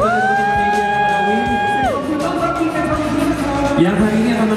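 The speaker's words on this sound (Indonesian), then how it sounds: "Boleh berikan tepuk tangannya dong satu kali." An audience at a fan meeting in Jakarta cheers and whoops loudly, with high shrieks and a steady crowd roar throughout.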